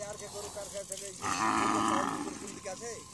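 Cattle at a Bangladesh–India border area moo in a long, loud low call close by, framed by shorter calls before and after.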